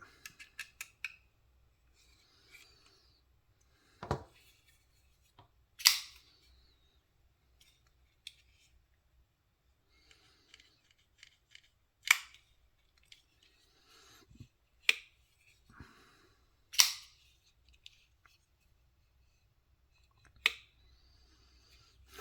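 A Twosun TS275 folding knife with titanium and carbon fiber handle snaps shut several times, each close a sharp, crisp clack set apart by quiet gaps, with small handling clicks and rubs in between.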